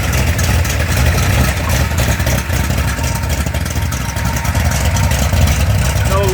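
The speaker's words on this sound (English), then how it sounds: "As you can hear, a little bit of an exhaust snap from that header lead." A Mopar 360 short-block crate engine with headers runs steadily and loudly close by, a constant rumbling idle with a choppy camshaft beat and sharp exhaust snaps from the header.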